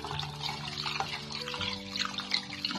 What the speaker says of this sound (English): I have to wash it first.